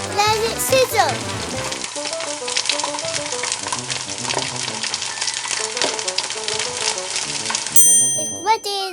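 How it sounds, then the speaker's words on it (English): A toy frying pan in a Barbie cooking play set makes a continuous electronic sizzling sound with tinkly musical tones layered over it, followed by a brief chime at the end. "Let it sizzle."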